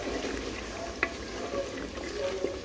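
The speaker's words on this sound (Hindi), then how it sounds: "आपने साथ साथ इसलिए चमचा हिलाता रहना है क्योंकि ये हांडी है" A spoon stirring aloo gosht curry in a handi pot, with soft bubbling and frying under the steady stirring and a couple of light spoon knocks against the pot.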